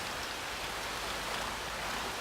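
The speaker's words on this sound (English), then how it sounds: "It's raining." Steady rain in the Minecraft video game, a dense, even hiss of falling drops that holds at constant loudness throughout with no other sounds.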